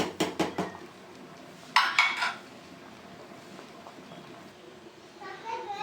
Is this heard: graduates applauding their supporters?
no